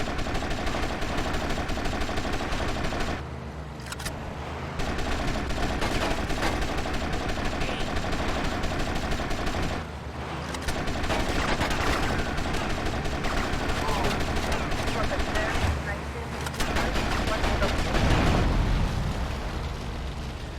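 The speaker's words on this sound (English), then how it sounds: "Good shooting, my friend." Sustained gunfire during a shootout in the video game Grand Theft Auto: Vice City Definitive Edition, dense and continuous across the whole stretch with brief lulls, loud and close, with game voices mixed in at moments.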